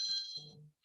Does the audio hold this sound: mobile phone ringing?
yes